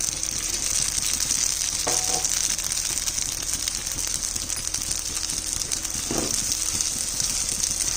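Rice for basanti pulao fries in a pan with a steady, faint crackling sizzle. Two brief scraping knocks from stirring stand out briefly.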